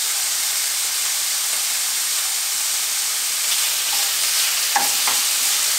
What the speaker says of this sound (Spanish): En un sartén agregamos el aceite, agregamos también la carne de cerdo que yo la tengo ya partido en cubitos.